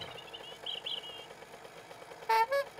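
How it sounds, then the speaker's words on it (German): Vehicle horn in the video game 7 Days to Die, two short, loud honks sounding near the end after a stretch of quieter game noise. "Ich hab da hier eine Hupe"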